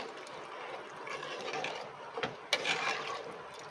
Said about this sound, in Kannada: ಮತ್ತು ಇನ್ನೊಂದು ಗ್ಲಾಸ್ ನೀರು ಹಾಕ್ಕೊಳ್ತಾ ಇದ್ದೀನಿ